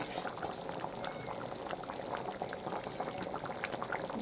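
A pot of potato curry simmers and bubbles, a faint, steady burble with small pops, quiet and continuous with no speech.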